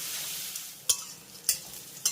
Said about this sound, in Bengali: এই করলাটাকে লবণ আর হলুদের সঙ্গে খুব ভালোভাবে মিশিয়ে নিয়ে একটু খুব ভালোভাবে কিন্তু ভেজে নিতে হবে